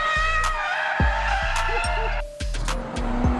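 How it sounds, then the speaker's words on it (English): Tires on a sports car squeal during a burnout as the engine revs in repeated loud surges, a steady high-pitched screech riding over the throbbing roar from start to finish. "It burns out the tires of the car."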